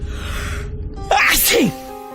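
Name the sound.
loud sneeze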